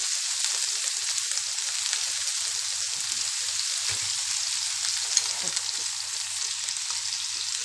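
Garlic frying in a pan for a cow trotters stew, giving a steady, close, dense sizzle that holds evenly through the whole stretch with no voices.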